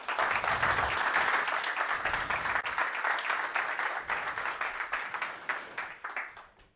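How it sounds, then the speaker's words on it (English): Audience applause for a stage helper at a software conference, dense clapping that is loud at first, then thins into more separate claps and fades toward the end, with no talk over it. "So give a warm applause for Karsten."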